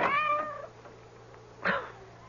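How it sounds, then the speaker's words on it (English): A cat meowing outside a front door at night: a clear drawn-out meow, a pause, then a second shorter, sharper cry, heard close and alone. "That cursed cat."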